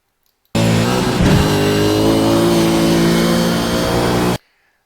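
A race car engine at the Zolder circuit holds a loud, steady, close drone for about four seconds as the driver eases slightly off the throttle, then stops abruptly.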